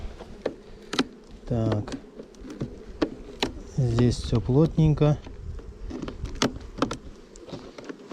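Honeybees swarm over hive frames being brushed off during a mite check, a steady close buzzing hum beneath a man's speech, with scattered taps and knocks from handling the frames.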